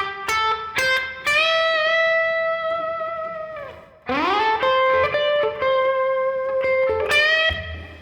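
Slow 12/8 blues lick on a Heritage 535 electric guitar through a 1966 Super Reverb amp: sustained bent notes and vibrato with reverb tail, a brief dip midway, then a loud rising bend and further phrases, played alone.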